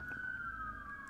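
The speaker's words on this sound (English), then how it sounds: "I have sirens behind me for a few minutes now" A faint, distant siren holds a steady wailing tone, slowly drifting lower in pitch, with no talking.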